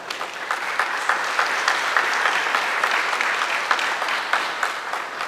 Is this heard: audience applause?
yes